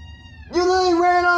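A person imitates a cat with a loud, drawn-out meow, rising then holding steady, close and clear, over background game sounds and faint talk.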